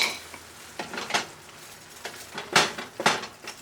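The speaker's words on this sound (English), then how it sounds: "Now we're gonna stir." A utensil stirs food in a pot, making a run of close, bright scraping and clinking strokes in an uneven rhythm, each stroke separate and sharp against a quiet background.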